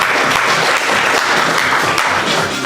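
An audience at a student improv showcase claps in a loud, dense burst of applause that holds steady for a couple of seconds before easing slightly, with no one speaking.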